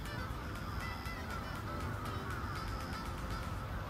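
A crow caws several times in a park in Senshu Park, Akita, on a cloudy summer day, the calls moderately distant and repeated over steady outdoor background noise, with no talking.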